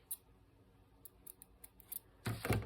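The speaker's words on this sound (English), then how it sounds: "Me and my squeaky scissors." Squeaky scissors snip several times in short, sharp bursts, ending with a louder, closer cluster of squeaking cuts.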